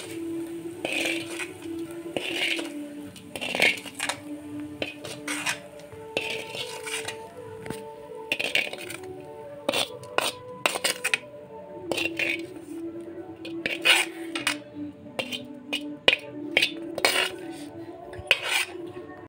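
Sautéed onion mixture is stirred into kuzhi paniyaram batter. Close, intermittent clinks and scrapes of a utensil against the container come in irregular bursts, with soft wet squishing between them.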